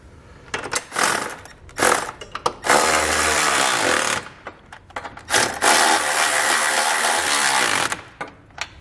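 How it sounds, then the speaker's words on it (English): Socket wrench tightening the top two bolts of a Curt trailer hitch receiver on a 2021 Hyundai Palisade, heard as a run of loud, close ratcheting bursts broken by short pauses, with no talk. "So now we're going to take a 19 millimeter socket and wrench. We're going to tighten up our two bolts here at the top."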